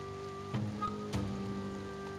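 Steady rain falling as an ambient effect behind a tabletop fantasy game session, a soft continuous wash with a faint hum underneath and a couple of brief soft knocks.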